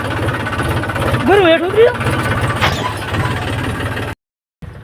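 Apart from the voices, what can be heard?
tractor engine running with rotavator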